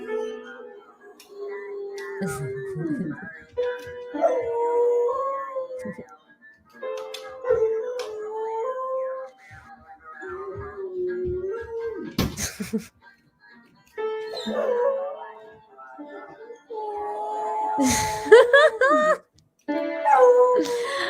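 Dog howling in long, wavering, song-like tones, repeated over and over, close and clear with short pauses between howls.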